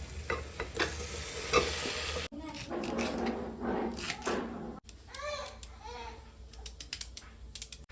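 Onions and tomatoes sauté in a pan with scraping stirs and a soft sizzle, broken by abrupt cuts, then voices talking over the cooking.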